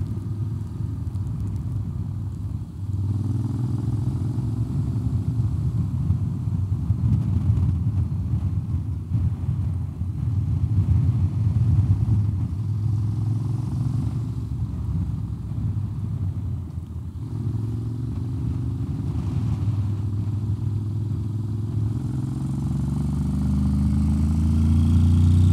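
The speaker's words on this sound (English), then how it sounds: "The sound of the exhaust. Cool sound compared to my older scooters." Honda X-ADV scooter exhaust while riding on a road trip, a steady low engine drone that holds throughout, with some wind rush over the microphone.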